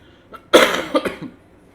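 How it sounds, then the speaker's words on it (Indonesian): One harsh cough close to the microphone, followed by a couple of smaller rough coughs, then quiet. "agak sedikit batuk"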